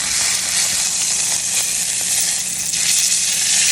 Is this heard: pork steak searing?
yes